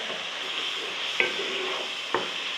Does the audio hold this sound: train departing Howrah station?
no